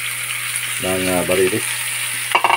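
Meat goes into a hot pan and sizzles loudly and steadily up close, while a voice speaks briefly over the frying.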